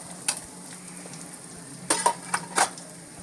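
Mustard seeds crackle and pop in hot oil, a few quiet sharp bursts over a faint background hiss, with a brief clink of a utensil.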